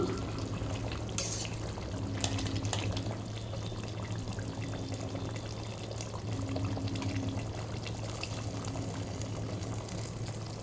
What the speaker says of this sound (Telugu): నీళ్ళు పోసుకోవాలి అలాగే తగినంత సాల్ట్ కూడా వేసేసుకోవాలి